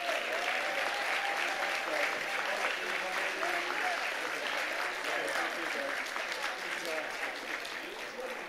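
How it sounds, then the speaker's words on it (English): Sustained, even applause from a seated crowd honoring award recipients at Lehman College's 50th anniversary leadership awards dinner, a steady wash of many hands clapping with no pauses, fading slightly toward the end. "Let's give our honorees one more round of applause."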